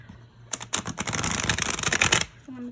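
Tarot cards are shuffled by hand in a quick riffling burst of crisp flutters lasting about two seconds, close to the microphone, with a brief voice after.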